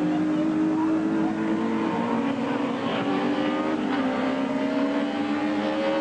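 A Ford Sierra Cosworth touring car brakes and changes down for a hairpin during a 1987 British Touring Car Championship race. Steady, loud engine drone with shifting harmonic tones continues throughout under trackside ambience.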